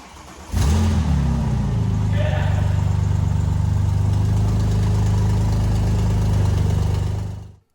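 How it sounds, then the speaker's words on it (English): A Porsche 996 Turbo cranks and fires up with a quick rev flare, then settles into a steady, close, rumbling idle that continues for several seconds before cutting off. "Now start the car up for about 10 seconds to pressurize the system."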